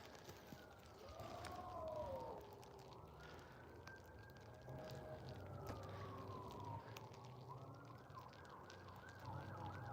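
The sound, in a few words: siren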